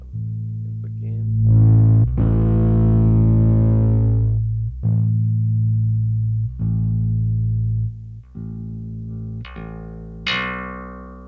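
Bass guitar played through the Brainworx Ampeg SVT amp simulator plugin with slight distortion: a handful of sustained, punchy notes with clanky attacks, separated by brief gaps, ending on a couple of higher notes. No voices.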